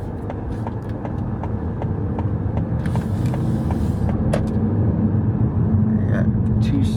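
A car rolls along a road from inside the cabin, giving a steady low rumble of engine and tyres with faint ticking over it throughout.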